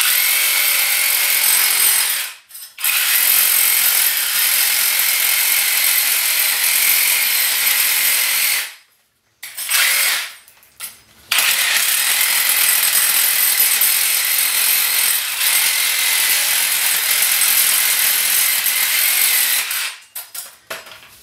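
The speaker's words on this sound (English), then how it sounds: "I went ahead and got this scraper that goes on my DeWalt reciprocating saw." A DeWalt reciprocating saw fitted with a scraper blade buzzes loudly as it strips thinset from a ceramic tile floor, running in long continuous bursts with short pauses around 2.5, 9 and 11 seconds and near the end.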